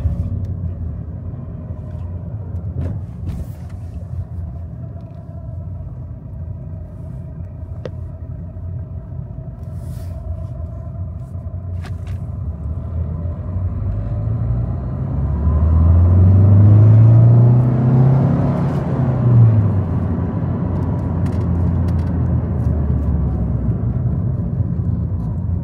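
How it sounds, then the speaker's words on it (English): A Ford Fiesta 1.6 TDCi diesel with a newly fitted turbocharger on a road test: a steady interior engine and road rumble that swells into a louder acceleration surge midway, then settles back to a cruising drone. "And now, the road test with the new turbo fitted."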